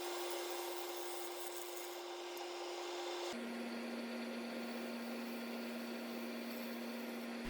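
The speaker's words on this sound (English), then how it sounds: "Now you see the more fine shavings coming off. These are some finish cuts that I'm working on" Finish cuts on an applewood bowl spinning on a wood lathe give a steady, close hiss and rub over a constant motor hum that steps down in pitch partway through.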